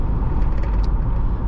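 A Ford Crown Victoria P71 Police Interceptor V8 with a 4-speed automatic cruises at low RPM, giving a steady, loud, low rumble with constant road and cabin noise throughout.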